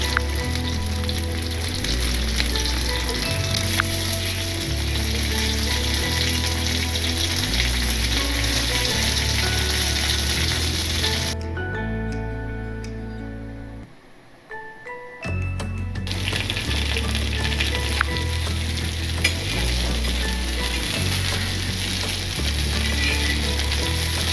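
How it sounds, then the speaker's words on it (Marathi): Soya chunk cutlets sizzle steadily in a pan, a dense, even frying hiss heard close up, with a rhythmic musical bass pulse underneath and a brief dip in the middle. "दोन ते 3 मिनिटं आपण एका बाजूने शिजवून घेणार आहोत."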